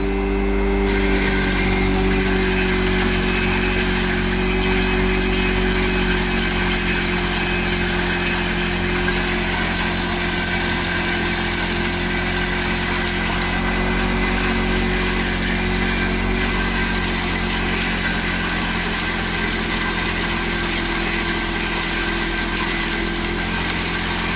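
A steady, loud engine-driven hammer mill drones on continuously with a constant mechanical hum and whine, no talking.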